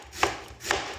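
Cabbage for momos being chopped by hand with a knife. Two sharp, close knife strikes land about half a second apart.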